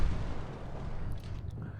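The gun of a Hetzer tank destroyer fires in World of Tanks Blitz: one heavy, close boom right at the start, followed by a low rumbling decay.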